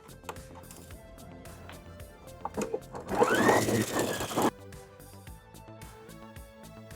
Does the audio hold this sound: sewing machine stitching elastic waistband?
yes